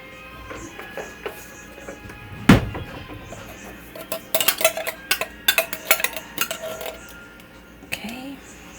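Clanks and scrapes of a spoon against a crock pot as drained tomatoes go in for chili, one sharp knock early, then a busy run of metallic clinks and scrapes with quiet gaps between.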